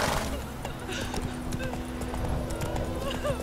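The horse Roach galloping in The Witcher 3, a steady clip-clop of hooves over an ambient game soundscape, with a voice speaking over it.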